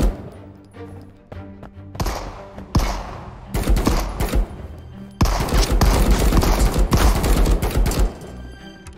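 Stoner rifle fire in the video game Marauders: rapid automatic bursts that start sparse and build into a long, loud continuous stream of shots.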